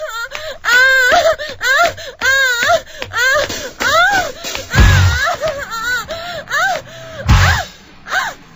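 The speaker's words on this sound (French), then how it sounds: "Vous avez entendu les cris de la fille au début." A girl's wailing screams ring out in a played recording of a song, loud and repeated in sharp bursts with pitch swoops, over a thumping low beat.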